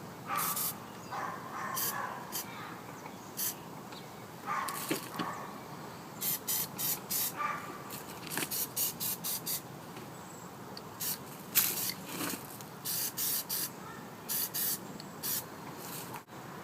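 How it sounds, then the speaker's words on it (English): Aerosol PlastiDip rubber coating is sprayed in light coats onto a car, heard as repeated short hissing bursts, close and fairly loud, some in quick runs and others spaced apart, over faint background noise. "It's a lot better to put on several lighter coats."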